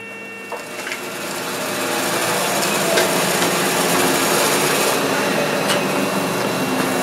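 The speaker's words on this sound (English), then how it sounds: "Got to cut them on the bandsaw." Bandsaw cutting wooden discs in a woodturner's shop, a steady close whine and hum that holds at an even level after a brief start-up, with faint ticks over the drone.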